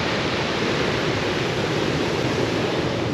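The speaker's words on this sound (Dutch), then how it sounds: "we staan nu op een zwart strand. Maar die golven." Waves crash on a black lava beach on the island of Savai'i, a continuous loud roar of surf with no break, close by and unaccompanied by voices.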